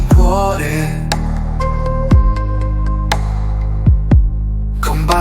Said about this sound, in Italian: mezzo al respiro sento il battito di un cuore